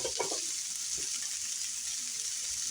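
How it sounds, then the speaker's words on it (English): Garlic and onions sautéing in a pan for Hungarian chicken give off a steady, even sizzle throughout, with a couple of brief stirring scrapes near the start and no talking. "We're going to saute our garlic and onions really nice."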